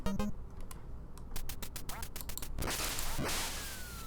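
Quacking from the NES game Duck Hunt opens with a brief electronic call, then a series of sharp zaps and a rising wash of noise, with quiet voices in the background.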